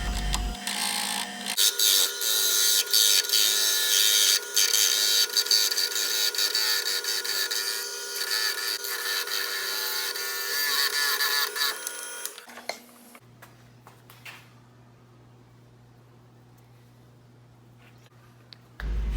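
Small wooden egg-shaped earring pieces are sanded with sandpaper in a woodturning shop, a loud, continuous abrasive rasp for about twelve seconds that stops and leaves a quiet low hum.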